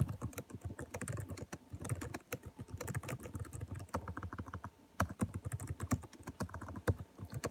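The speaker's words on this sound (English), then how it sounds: "Sorry about the typing sound, everybody." Rapid keystrokes on a computer keyboard, with clusters of close, crisp taps and brief pauses, continuing steadily with no voices.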